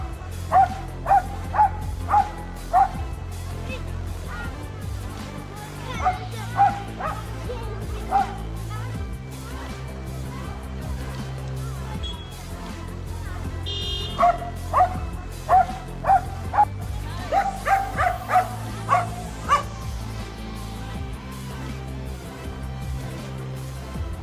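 A dog barks in repeated bursts of several quick barks, close and loud, separated by pauses and mixed with occasional yips, while steady music plays underneath.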